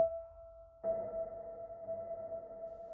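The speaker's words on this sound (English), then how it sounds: "I want a subtle echo, so I'll turn on the delay" Piano note played in Native Instruments NOIRE with a subtle echo delay, a steady sustained tone that fades in softly after a short pause and rings on with gentle repeats.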